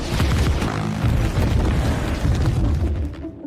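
A cliff blasted apart at the Fremen base in a film scene, with a loud, sustained rumbling explosion and dense debris roar that rolls on for several seconds before easing off at the end.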